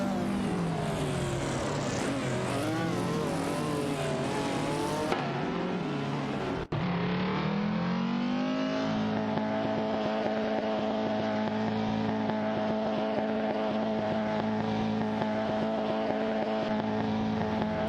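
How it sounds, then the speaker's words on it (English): Race cars in an AI racing video game whine around the track, engine tones rising and sweeping before settling into a steady sustained drone, with a short sharp break midway. "They're really zooming out there on the track."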